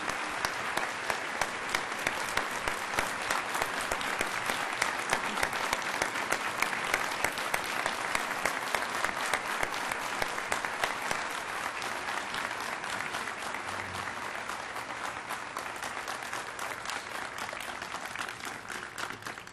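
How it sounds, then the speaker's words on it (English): A commencement audience applauds in a large hall, dense sustained clapping from many hands that runs steadily for nearly twenty seconds before easing slightly. "So I'd like a round of applause and recognition for"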